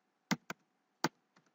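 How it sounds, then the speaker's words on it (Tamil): A few sparse computer keyboard keystrokes tap out in a quiet room, two quick clicks, then another, then faint softer taps, crisp and close. "இப்போ என்னோட ஃபேஸ்புக்கில் வந்து நான் டைப் பண்ணுறேன்"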